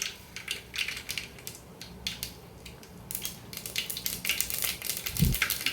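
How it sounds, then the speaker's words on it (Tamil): Mustard seeds splutter and pop in hot oil in a pan while a fish kolambu is being cooked. Dense, irregular crackling continues throughout and grows busier toward the end, with no voices. "கடுகு நல்லா பொரிஞ்சு"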